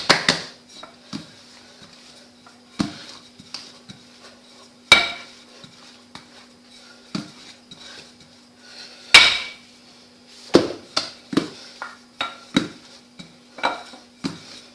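Croissant dough rolled out on a large work surface, heard as a series of sharp, close knocks and clatters at irregular intervals with quiet gaps between, over a faint steady hum and with no talking.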